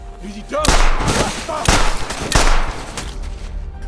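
Several sharp gunshots crack out amid a chaotic, noisy scene, spaced irregularly over a few seconds with rumbling commotion between them.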